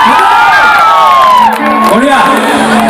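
Audience at a live Bihu stage program in Assam cheering and shouting loudly, a dense continuous crowd roar with whoops and a sustained vocal or instrumental tone over it.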